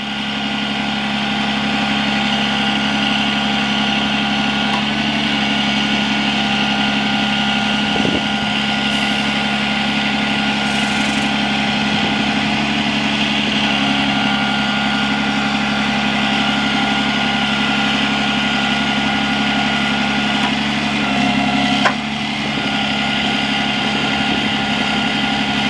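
Winch lowering on a 2008 Freightliner Business Class M2 106 truck, a steady loud droning engine and hydraulic hum that runs unbroken, with a few faint clanks and shifts in tone.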